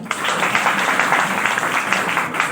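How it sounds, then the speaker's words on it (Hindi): A crowd at a school function breaks into sustained applause, a thick, even patter of many clapping hands filling the whole stretch without pause. "तालियां बजाइए।"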